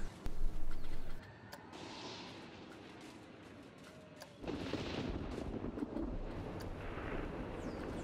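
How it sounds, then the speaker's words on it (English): Thunder effect from the Planet Coaster game, starting with a loud close crack and rumble, then a quieter stretch and a second long, rolling rumble that swells and holds steady. "Thunder 1."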